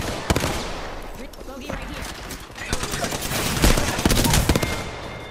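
Enemy gunfire in a shooter video game, scattered sharp shots and bursts building in intensity, with players talking excitedly over the fire.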